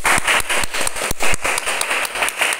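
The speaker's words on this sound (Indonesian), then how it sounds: "Mari kita sambut dengan tepuk tangan." Steady applause from a crowd, a dense patter of many hands clapping continuously with no voices over it.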